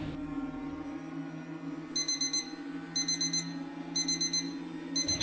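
An alarm clock goes off at 3 a.m. with repeated bursts of high electronic beeping, four clusters of rapid beeps about a second apart, faint against a quiet room with a low steady hum beneath.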